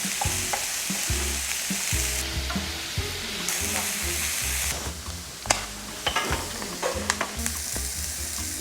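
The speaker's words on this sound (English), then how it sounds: "Stir fry until sausages are lightly browned." Sausages and onion stir-frying in oil in a hot pan: a loud, dense, continuous sizzle with busy tossing and scraping, plus a few sharper clacks near the end, close up and without talk.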